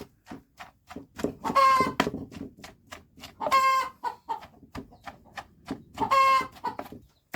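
Laying hens cluck repeatedly in a shed at close range, with three louder, drawn-out calls standing out above a steady scatter of shorter clucks.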